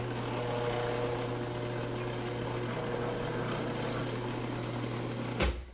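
Food processor fitted with a metal blade whirring steadily as it mixes flour and sugar, a constant loud motor drone with a low hum, ending in a brief clunk.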